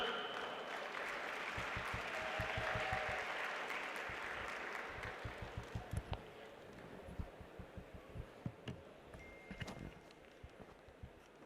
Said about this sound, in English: A very, very big round of applause, friends.